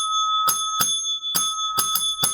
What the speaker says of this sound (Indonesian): Lonceng, lonceng, lonceng.